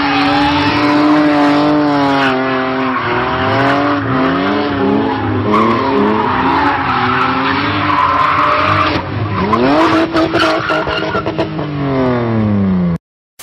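A BMW E36 drifts with its engine revving up and down in rising and falling pitch sweeps while the tires squeal and skid continuously, loud and close, ending abruptly.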